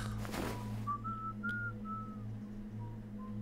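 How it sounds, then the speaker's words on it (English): Watson whistles a short, slow tune in Sherlock Holmes: Crimes & Punishments, several clear sustained notes over a steady low hum, after a brief burst of noise at the start. "Whistling really, Watson?"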